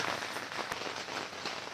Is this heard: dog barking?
no